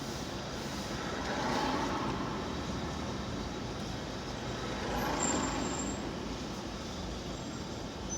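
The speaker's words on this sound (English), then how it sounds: "God, how many people are getting on and off this bus?" A city bus passing through stops to board and drop off passengers, its engine rumbling faintly at a distance with a soft hiss of air brakes, swelling twice and then settling, with no one speaking.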